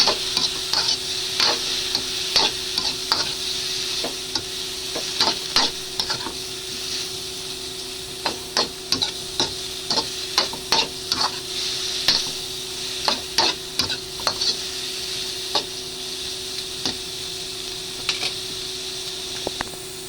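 Chicken gizzards with soy sauce being stirred in a hot pan, a steady close sizzle broken by repeated scraping strokes of the utensil, with no talking.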